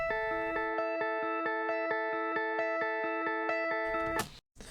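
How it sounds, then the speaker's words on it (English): A dry, unprocessed guitar picks a steady repeating pattern of bright, ringing notes at an even rhythm for about four seconds, then breaks off into a short burst of noise. "So first of all, I have a guitar sound."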